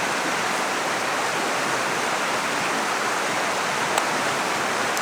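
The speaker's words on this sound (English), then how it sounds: "You can see how that water is just rushing out of there." Water gushing out of a Katadyn BeFree squeeze filter, a steady loud hissing rush that continues without a break, close by and without talking.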